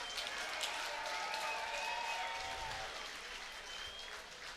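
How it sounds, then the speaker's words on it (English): A kickboxing event crowd applauds two fighters after the bout, a broad, fairly distant wash of clapping and cheering that holds steady and then eases off slightly, with faint voices carrying over it. "let's have a round of applause for these two great fighters"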